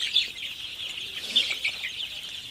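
Sonali super hybrid chicks, sixteen days old, peep continuously in a brooding group, a dense high chorus of overlapping cheeps with a few louder calls close by and no talk.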